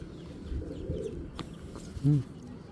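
A pigeon held in the hand, a foreign male bred for racing, gives a short low coo near the end, close by, over soft handling rustle and faint background noise.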